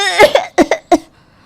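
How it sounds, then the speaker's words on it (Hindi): A woman fakes a bout of loud, deliberate coughing indoors, four sharp close coughs in quick succession after a brief vocal lead-in, then quiet. "वो जानबूझकर ज़ोर ज़ोर से खांसने की एक्टिंग करना शुरू कर देती है"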